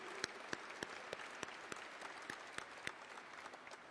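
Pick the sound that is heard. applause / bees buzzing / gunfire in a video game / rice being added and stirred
applause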